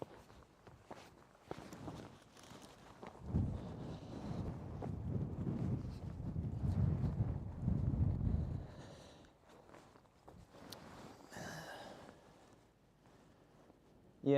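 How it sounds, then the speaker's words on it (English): Low, rumbling ocean wind buffeting a microphone near a volcanic eruption in Iceland, swelling loudly in the middle and easing off, with a few faint voices and rustles around it. "it's getting a bit windy over here"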